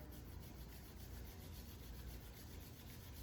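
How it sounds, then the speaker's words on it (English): A pair of hands rubs briskly together during a yoga practice, giving a soft, continuous rasping friction that sits close but faint, with no voices. "So let's just kind of rub our hands together."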